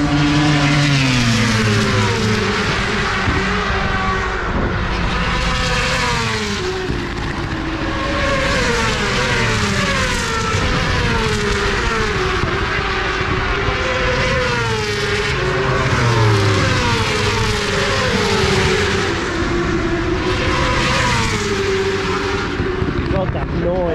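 British Superbikes race past on the Brands Hatch GP circuit during qualifying. High-revving engines scream by in repeated passes every few seconds, rising and falling through gear changes, loud and fairly close over constant trackside noise.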